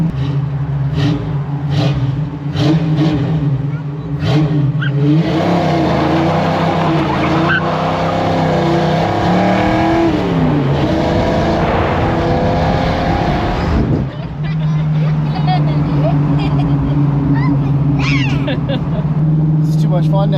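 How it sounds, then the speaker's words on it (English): A rear-wheel-drive car fitted with posi traction revs hard and spins both rear tires, loud engine roar and tire squeal rising for several seconds, recorded close by with people talking over it. "Being able to spin both wheels."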